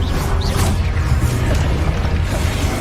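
A Confringo blasting spell in Hogwarts Legacy erupts as a loud, dense, continuous rumbling burst of magical explosions and crashing impacts, with no voices.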